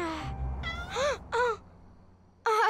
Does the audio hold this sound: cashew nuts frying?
no